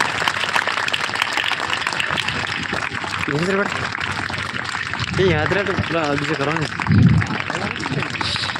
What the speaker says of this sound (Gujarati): વિદ્યાર્થી મિત્રો તાળીઓનો અવાજ ઓછો ના થવો જોઈએ